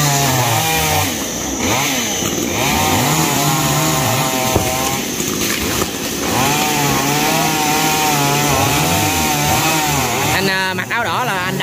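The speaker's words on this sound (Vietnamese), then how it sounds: "Và ba của Toàn cưa cây xoài bên đây." A chainsaw cuts a mango tree up close, its engine note rising and falling as it revs and bites, loud and continuous with brief throttle dips and a voice faintly underneath.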